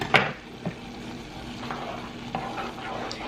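Butter frying with garlic and onions in a pan, a soft steady sizzle broken by a few light clicks of a utensil stirring against the pan.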